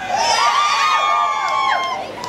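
A concert crowd at a Pride event in Luton screams and cheers loudly and continuously, shrill voices and whoops blending into a sustained roar that fades slightly at the end.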